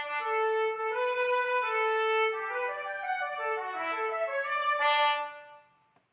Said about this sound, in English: Here comes a trumpet.